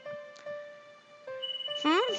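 A phone ringing in the video game Kitty Love, a repeating electronic ringtone chime heard a few times, with a rising melodic flourish near the end and talk in the background.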